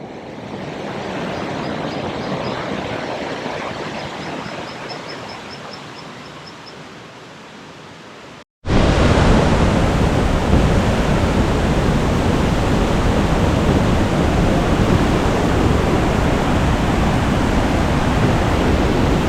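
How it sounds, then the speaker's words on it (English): Steady, dense roar of a waterfall at Pozo Azul on a river in Minca, Colombia, heard up close; it starts somewhat softer, cuts out briefly, then returns louder and unbroken. "this beautiful waterfall"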